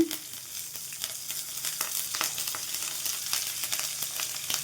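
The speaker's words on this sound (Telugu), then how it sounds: "ఫ్లేమ్ మీడియంలో ఉంచేసుకొని ఈ మొత్తం కూడా వేయించుకోవాలండి" Dried red chili and curry leaves fry in oil for puffed-rice upma, a steady close sizzle with small crackles throughout, no voices.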